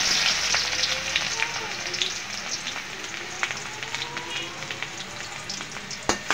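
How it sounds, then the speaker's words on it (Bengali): Chopped onion and garlic frying in hot oil in a wok: a steady, moderately close sizzle with brief crackles and a few sharp spatters, heard alone without talk. "পেঁয়াজ রসুন কুচিটা একটু ভেজে নিব।"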